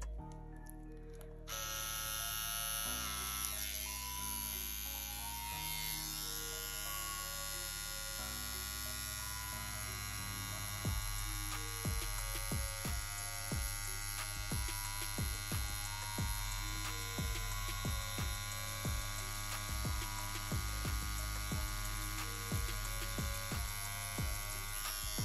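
Tattoo machine lining on silicone practice skin, a steady close electric buzz running almost continuously after a short quiet start, with repeated brief clicks and shifts in pitch as the needle works and the power is turned up.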